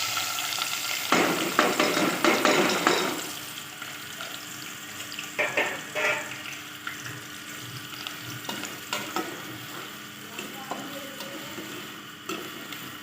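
Chopped onions fry in hot oil with a steady sizzle, louder bursts when stirred, and scattered clinks and scrapes of a utensil against the pan.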